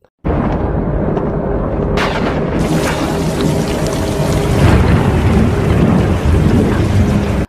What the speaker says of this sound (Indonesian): Kemudian hujan turun dengan deras sampai dasar tebing terlihat seperti sungai akibat dari luapan air hujan tersebut.